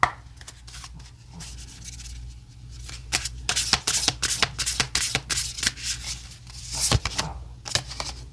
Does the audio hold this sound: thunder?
no